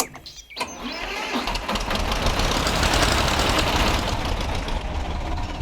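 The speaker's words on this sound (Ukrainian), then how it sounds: "Ось такі звуки у нашого чудового тракторця." A Soviet T-16 tractor engine in the Spintires driving game starts with a few sputters, then settles into a loud, steady rumbling idle with a rapid knocking beat, close and alone.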